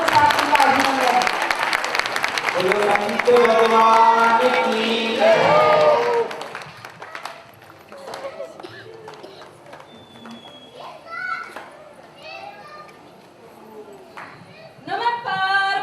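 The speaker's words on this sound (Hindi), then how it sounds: "सभी जोरदार तालियों के साथ उनका अभिनंदन।" A crowd at a Bhagavat Katha religious gathering claps loudly and steadily for several seconds, then the applause fades to scattered voices and someone speaking.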